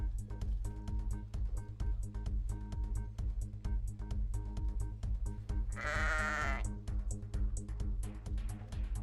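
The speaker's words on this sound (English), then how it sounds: "I will make a sheep appear from thin air." A sheep conjured by a spell in World of Warcraft bleats, a wavering cry standing out midway over steady game music, with no voices.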